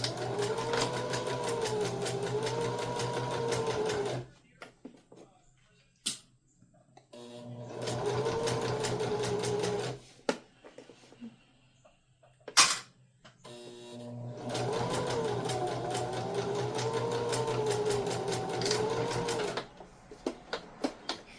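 A sewing machine back stitches a tote bag in three loud, steady bursts of humming whir, separated by pauses with handling clicks and a sharp clack.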